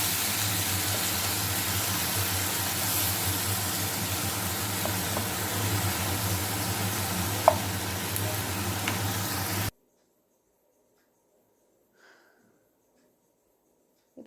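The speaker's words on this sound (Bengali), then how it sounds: "এখন একটু সয়া সসটা বেশি করে দেবো, কারণ আমার সয়া সসটা একদম পাতলা, এই জন্য একটু বেশি 3 চামচের মতো দিয়ে দেবেন। দিয়ে এখন এটা একটু ভেজে ভেজে নেব" Chicken manchurian fries in a pan with soy sauce, giving a steady loud sizzle for about ten seconds before cutting off into near silence.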